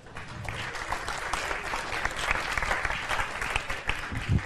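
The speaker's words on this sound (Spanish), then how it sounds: "Aplauso." Audience applause at a Tech Evening event on the collaborative economy and smart cities, steady moderate clapping from a mid-sized crowd lasting a few seconds.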